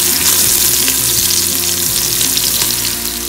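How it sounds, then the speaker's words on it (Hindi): Sliced onions browning in three tablespoons of oil in an Instant Pot on saute mode, a loud, steady sizzle with occasional stirring scrapes running throughout without pause. "ये मैंने सॉटे मोड में अपना इंस्टेंट पॉट ऑन किया है और उसमें 3 टेबल स्पून मैंने ऑयल लिया है और उसमें अपने अनियन को स्लाइस करके ब्राउन कर रही हूँ।"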